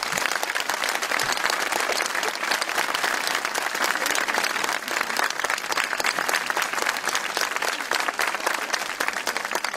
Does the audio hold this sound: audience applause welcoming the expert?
yes